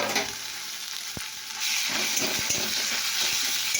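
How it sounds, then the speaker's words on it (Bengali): Soft sizzle of onions frying in a pan that grows louder partway through, with light stirring taps and scrapes. "পেঁয়াজটা ভাজা হয়ে গেছে, দেখতে পাচ্ছি"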